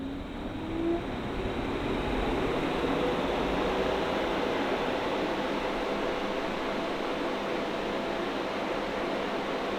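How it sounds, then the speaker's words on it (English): A 12V DC variable speed air conditioner spins up in cooling mode, its compressor and fan settling into a steady, even whooshing hum with a faint rising tone at the start, close and continuous with very little vibration. "Sounds very much like a car air conditioner. You hear the compressor coming on."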